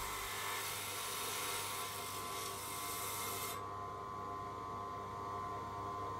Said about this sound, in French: découpe la pierre à l'aide d'une scie diamantée